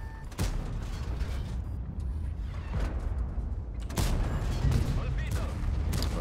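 A tank cannon fires two shells in World of Tanks: two sharp reports several seconds apart over a steady mechanical engine drone and faint creaks.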